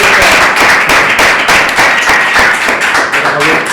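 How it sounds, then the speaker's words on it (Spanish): An audience applauds Facundo Quevedo, a loud, dense burst of close clapping that keeps going steadily throughout. "Y un grandísimo aplauso para Facundo Quevedo."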